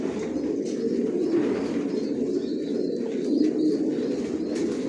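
Racing pigeons coo steadily in a breeding loft housing many pairs, a dense, continuous low murmur of overlapping calls close by with no talk.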